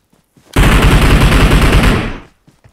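Automatic gunfire from a PUBG Mobile match: one loud, close burst of rapid shots lasting about a second and a half, standing alone with no talk.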